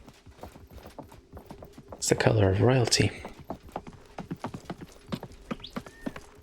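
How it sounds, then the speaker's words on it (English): Horse hooves clip-clop in a fast, steady rhythm in the video game Realm Royale. A person speaks briefly over them and a louder game sound rises midway. "I hear horse."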